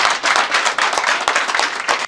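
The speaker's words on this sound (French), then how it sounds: "Donc applaudissez pour vous-même" Audience applause during a news commentary broadcast, loud, close clapping from a crowd with distinct individual claps standing out in an uneven rhythm, cutting off abruptly at the end.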